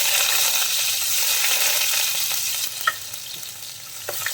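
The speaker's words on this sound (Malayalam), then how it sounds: "ഇനി നമുക്കതിലേക്ക് ഇഞ്ചി വെളുത്തുള്ളിയും ചേർത്ത് കൊടുക്കാം." Ginger and garlic sauté in hot oil with popped mustard seeds for a Palakkad-style egg curry, giving a loud, steady sizzle with a few stirring clinks near the end.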